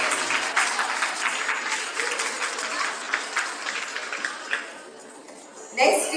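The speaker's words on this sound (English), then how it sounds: "You guys should clap for all these people." A large audience at an evening stage show applauds steadily and loudly for about six seconds, a dense wash of clapping that dips slightly near the end before a final burst.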